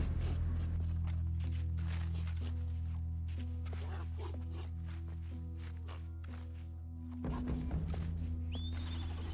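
Horse sounds from Red Dead Redemption 2 play over a steady low droning hum, with scattered hoof clops and a brief rising whinny near the end.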